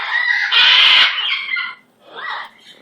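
Romy, a pet bird, gives loud, close, raspy clucking calls, a long harsh burst followed by a shorter one after a brief pause, with no talk over them.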